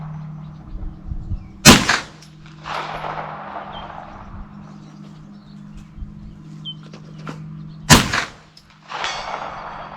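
Two loud, sharp 9mm blowback pistol shots ring out several seconds apart outdoors, each followed by a fainter, delayed burst as the bullet strikes a distant steel target.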